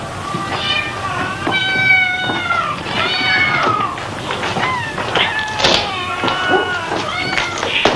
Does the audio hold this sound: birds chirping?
no